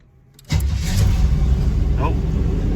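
An old Pontiac Sunbird cranks briefly and catches, its engine settling into a loud, steady idle close by after the start, with no speech over it.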